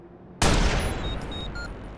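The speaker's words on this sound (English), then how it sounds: "You just flinched from a sniper rifle shot?" A single loud sniper rifle shot cracks out in the Watch Dogs video game, an abrupt close blast followed by a decaying rumbling tail.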